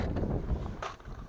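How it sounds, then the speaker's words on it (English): Gusty wind outdoors at a fishing spot buffeting the microphone in uneven bursts, rumbling and close, with no voices. "Sorry, it's kind of windy out here."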